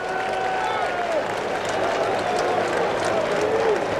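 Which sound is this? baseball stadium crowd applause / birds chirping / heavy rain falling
baseball stadium crowd applause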